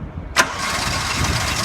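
A skid steer loader's engine cranks with a sharp starter burst and catches, then settles into a steady, fairly loud idle rumble.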